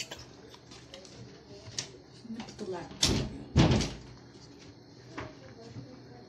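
A door pulled shut in a home kitchen during cooking, giving two firm thuds a half-second apart amid background talk and kitchen clatter.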